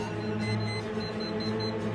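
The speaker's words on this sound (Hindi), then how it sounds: "देखिए, अलार्म अपने आप बंद हो गया।" An alarm rings steadily in a residential building, a continuous droning tone holding the same loudness for the whole stretch with no talk over it.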